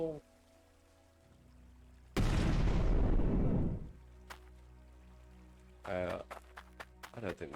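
A heavy explosive blast set off down a mining hole in the game Hydroneer, a sudden loud roaring burst lasting over a second before fading, followed by scattered clanks and thuds.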